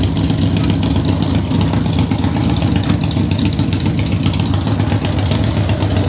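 Motorcycle engine turning over as someone pedals it in a cold garage after winter storage, a steady low mechanical chug and rumble that continues without catching, fairly loud and close, no talk.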